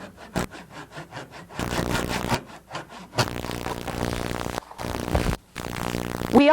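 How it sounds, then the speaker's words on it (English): A hand saw cuts a taped ceramic tile resting on cardboard, with rasping strokes in uneven bursts and brief pauses, close and fairly loud. "I've put tape over the surface of one of our tiles so I don't damage it with the bottom of the saw."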